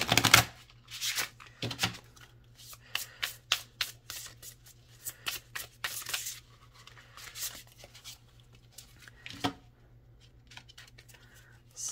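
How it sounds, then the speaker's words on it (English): Tarot cards with coated, shiny edges are riffled and shuffled in quiet, irregular bursts of crisp flicks and snaps, close by, with short pauses between. "It's super hard to shuffle."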